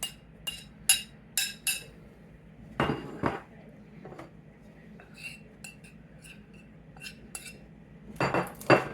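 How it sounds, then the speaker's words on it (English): Utensils clinking and scraping against a bowl as taco-seasoned chicken salad is tossed with lettuce, corn and seasoning, in irregular bursts of clatter with quieter gaps between, close and fairly loud. "And you can mix that all up."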